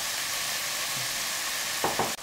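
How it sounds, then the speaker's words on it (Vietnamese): A constant loud sizzle of shiitake mushrooms stir-frying in a pan with chicken, with a couple of quick stirring scrapes near the end. "Tiếp tục thì mình cho nấm hương vào đảo đều."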